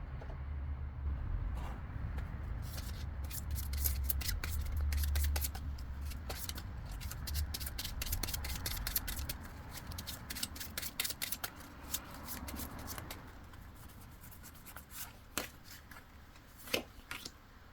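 Tarot cards are shuffled before an advice card is drawn: a long, continuous riffling patter up close that breaks into scattered, sparse card flicks toward the end.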